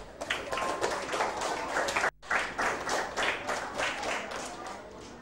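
Students in a classroom applaud together, with dense clapping that runs for about two seconds, breaks off briefly and then resumes just as strongly.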